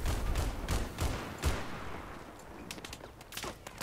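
Gunfire from the video game Battlefield 4 in a multiplayer Conquest match on the Lancang Dam map, sharp shots and bursts popping in irregular clusters over a steady rumble of battle noise, mid-distance and moderately loud.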